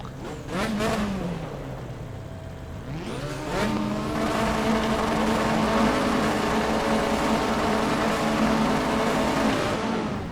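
Sports cars including Miatas, Cobras and RX-7s rev and accelerate through traffic, engines rising and falling in pitch as they pass, a loud layered roar that builds and holds.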